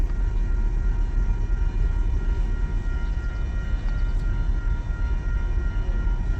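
A Union Pacific freight train with an EMD diesel locomotive rolls into the rail yard at Rochelle. Its rumble is steady, loud and continuous, with low engine drone and no clear horn blast.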